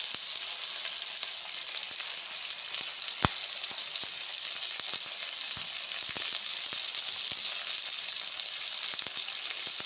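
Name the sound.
brinjals frying and sizzling in a pan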